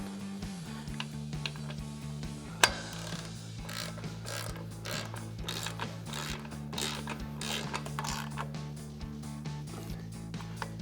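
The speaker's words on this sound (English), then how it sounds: "Now we're going to come in with our 21mm socket on our ratchet and tighten these bolts down." A ratchet fitted with a 21mm socket tightens the brake caliper bolts on a 2013-2022 Ford F-250 during an APB HD 6-piston caliper install, giving steady rapid clicking over a constant low hum, with one sharp knock partway through.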